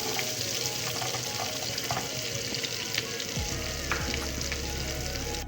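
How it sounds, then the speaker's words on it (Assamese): Garlic fries in sizzling butter in a hot kadai, a dense continuous crackle and hiss up close with soft stirring, joined near the end by a low steady hum. "এতিয়া ইয়াতে নহৰুখিনি দি দিছোঁ।"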